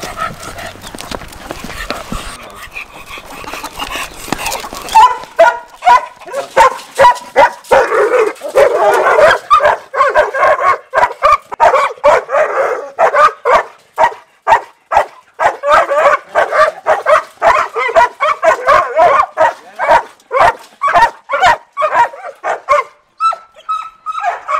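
Several dogs bark and yelp in rapid, repeated bursts, male dogs worked up over a female in heat, including a dominant black wolf-type dog and a pitbull; the noise is loud, close and sustained, with brief whimpers between barks.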